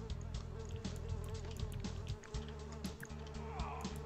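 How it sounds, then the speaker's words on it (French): Swarm of flies buzzing in a shooter video game, a constant insect drone with small bursts and clicks layered over a low background hum, fairly quiet and without speech. "Il y a plein de mouches."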